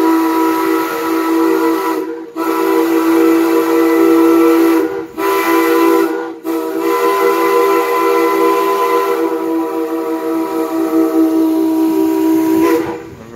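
A steam locomotive whistle on the Lumberjack Steam Train in Laona, Wisconsin blows long and loud, a steady multi-tone hiss-laden blast broken by brief pauses, with no voices.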